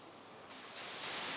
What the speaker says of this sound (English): And if you play back noise,